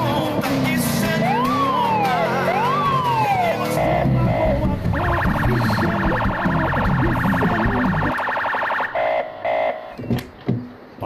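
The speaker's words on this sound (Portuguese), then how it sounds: "parece os alarmes dos carros aqui de perto de casa" Nearby car alarms wail in rising and falling electronic sweeps, then switch to a steady, fast-pulsing tone that stops and starts in short bursts, loud and close.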